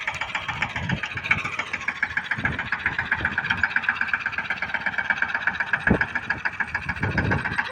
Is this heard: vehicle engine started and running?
yes